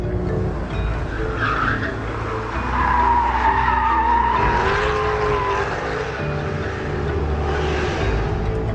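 A Lamborghini Aventador accelerating hard on a wet road, its tires squealing and skidding under full power, a loud and sustained screech that rises and wavers over the engine's drone with no speech.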